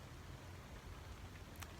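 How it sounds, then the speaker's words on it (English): Steady rain falls outside a house under construction, a soft, even hiss of drops that stays faint and constant from start to end. "It's raining, if you can't tell"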